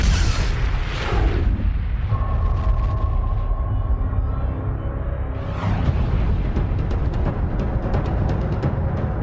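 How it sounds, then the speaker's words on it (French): An explosion sound effect from an astronomy documentary about galaxies: a deep, loud booming blast that rolls into a long rumble, then a second surge, with crackling debris throughout. "Vous imaginez la force de l'explosion ?"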